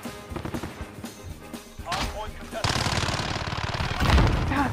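Rapid bursts of gunfire ring out in a video game during a friendly-fire incident, starting with scattered shots and swelling into sustained, dense automatic fire that stays loud toward the end.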